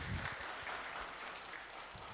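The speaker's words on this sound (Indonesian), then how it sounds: "Tepuk tangan buat Pak Wali." A crowd at a creative-economy talk with a government minister gives a brief burst of steady, even applause that fades slightly toward the end.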